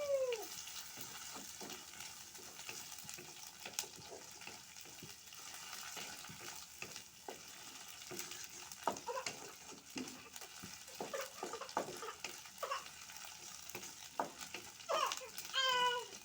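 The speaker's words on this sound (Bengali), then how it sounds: "ভালোভাবে ভেজে নিব রসুন, পেঁয়াজ আর শুটকি।" Dried fish frying with garlic and onion in a pan, a low steady sizzle with scattered scrapes and clatter of a spoon stirring, fairly quiet and close.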